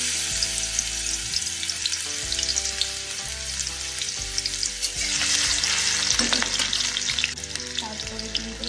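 Chopped ginger frying in hot oil for a dal, a loud, steady close sizzle with crackling spatters throughout, with faint background music and no talk.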